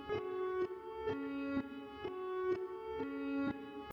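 A piano loop played in reverse with reverb and an auto filter swells repeatedly into sharp cutoffs, pulsing in an even rhythm about twice a second, steady and alone.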